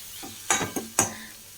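Ginger, garlic and green chillies get stirred in a hot pan for chickpea curry, a few quick scraping clinks of a spoon over a soft sizzle, close and brief.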